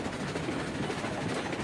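A train rolling on rails in the video game Railroads Online, a steady continuous rumble with faint rhythmic clatter throughout.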